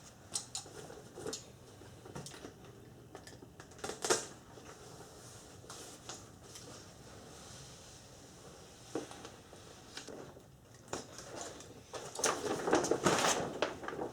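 Plastic sheeting and a zipper door being cut and trimmed inside a DIY garage paint booth, heard as scattered crinkling, snipping and rustling bursts at close range, busier toward the end, with no talk.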